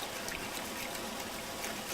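Water swirls and sloshes gently in a gold pan during panning, a soft continuous trickling wash, faint and close, with no talking.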